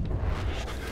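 Smart grenade explosion in the Call of Duty Advanced Warfare campaign, a deep heavy rumbling blast that fills the whole short moment at close range.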